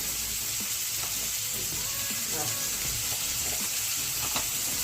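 Mustard paste and chilli paste, two spoonfuls each, sizzle steadily in a hot pan as it is stirred, with a constant close hiss and a few faint scrapes and clinks.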